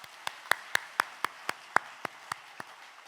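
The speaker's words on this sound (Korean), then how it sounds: "우리에게 은혜로운 말씀을 전해주신 선교사님께 감사 박수 드리겠습니다." A single pair of hands claps at a church service to thank a missionary, about a dozen sharp, evenly spaced claps, quiet and somewhat distant in a hushed room.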